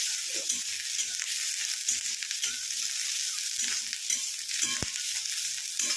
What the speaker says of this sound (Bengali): কপিটা হালকা ভেজে নিয়ে ফেরত আসছি।